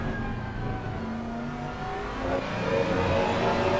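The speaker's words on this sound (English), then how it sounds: "That Mustang, let's listen to the growl." A Mustang GT3 race car engine in a racing game at Laguna Seca growls steadily, then revs higher and louder as it accelerates, with a rough, throaty tone.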